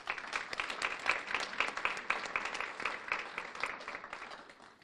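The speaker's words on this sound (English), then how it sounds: "Please give our businesses a round of applause." Audience applause at a city beautification awards ceremony in Farmington Hills, 2018: steady, dense clapping from a crowd that holds at an even level for several seconds.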